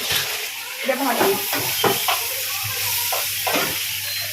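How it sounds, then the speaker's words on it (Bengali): Chilli chicken sauce with tomato sauce stirred in a hot pan, a steady sizzle under repeated scraping strokes of a spoon, close and moderately loud, with no talking. "এটা ভালো করে মিক্স করে নিলাম"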